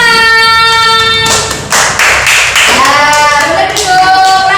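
Classmates in a primary classroom break into a burst of hand clapping that starts strongly partway through, with a sustained tonal drone and voices around it.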